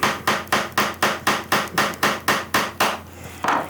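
A brad nail is hammered into bamboo with about a dozen sharp, evenly spaced strikes, close and loud, each blow ringing briefly before the next, with no talking.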